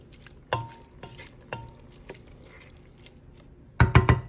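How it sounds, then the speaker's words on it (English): Shrimp with vegetables and herbs being stirred in a pan for bow tie pasta, a few spaced clanks of a utensil against the pan followed by a louder cluster of knocks and scrapes at the end, close and without talk. "The veggies and the herbs with the shrimp. Stir it up, stir it up."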